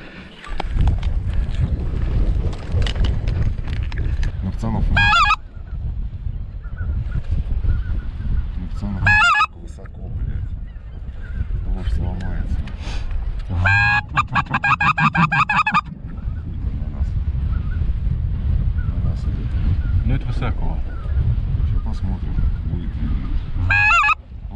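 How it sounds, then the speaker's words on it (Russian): Wild geese honking during a goose hunt, several bursts of loud nasal calls from a flock in the open, separated by stretches of wind noise. "Потому что тут есть гуси."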